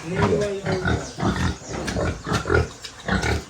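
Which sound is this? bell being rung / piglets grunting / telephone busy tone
piglets grunting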